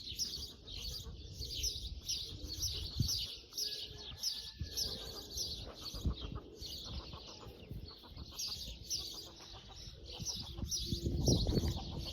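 Pigeons coo and chirp steadily at moderate distance in a Mardin rooftop setting, their repeated calls layered over outdoor background noise, with no voices present.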